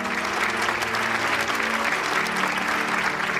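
An audience applauds warmly at a winery celebration honouring newlyweds. The clapping is sustained and even, with a faint tonal hum of music or room sound underneath.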